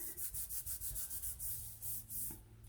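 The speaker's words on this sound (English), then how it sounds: "place it in our registration marks and give that a rub too" Printing paper is rubbed by hand onto a plate for a dendritic feather print: a quick run of rhythmic, scratchy strokes close to the microphone, with no voices.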